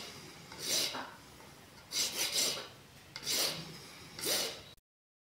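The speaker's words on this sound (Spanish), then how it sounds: "pasamos un poquito de lija y de lima a los soportes de la manijita también" Hand file rasping on small wooden hinge parts and handle supports for a homemade fishing tackle box, heard as four separate bursts of close, scratchy strokes with short pauses between, ending abruptly.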